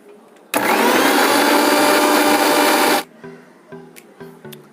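A mixer grinder blending batter for onion rings runs loud and steady for about two and a half seconds, then cuts off abruptly, followed by quieter clatter and a faint background voice.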